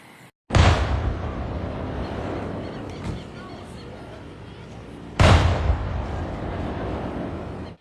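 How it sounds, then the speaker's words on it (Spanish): Two deep, booming blasts, each a sudden loud onset followed by a long rumbling roar that slowly fades. "¿Están oyendo las explosiones?"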